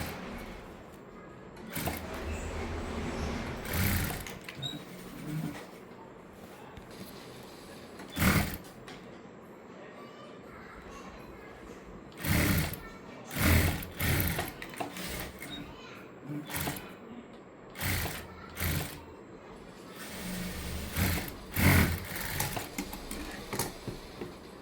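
A sewing machine stitches a frilled frock in short, loud bursts of whirring run separated by pauses, with occasional voice in between.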